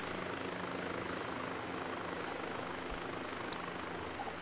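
Helicopter in a video game flying overhead, a steady loud rotor thrum and engine roar held throughout with no break.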